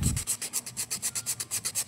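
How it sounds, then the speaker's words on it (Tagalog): Steady back-and-forth scraping of sandpaper removing rust from the metal of a 16-inch Minami electric fan, rhythmic strokes about six per second, close and fairly quiet. "So ito ating lihain muna."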